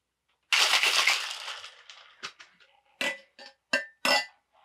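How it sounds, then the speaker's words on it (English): Ice rattling and crunching in a cocktail shaker holding grenadine and Pink Whitney vodka, a loud dense burst of shaking that tapers off into a few separate clinks and knocks, with no talk. "We're gonna add a little bit of ice and give it a nice shake."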